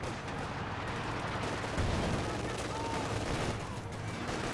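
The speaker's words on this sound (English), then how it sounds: "Captain's model with Thompson firing away does go down." Thompson submachine gun firing in a Company of Heroes 2 battle, a dense rattle of automatic gunfire woven into a loud continuous wash of combat noise and distant explosions.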